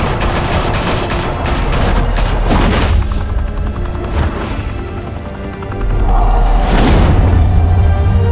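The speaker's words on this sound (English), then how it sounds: "Open fire!" Rapid gunfire in a Batman Telltale video game shootout in Gotham, dense bursts of shots over a loud, busy action soundtrack with booming low rumble, no talking.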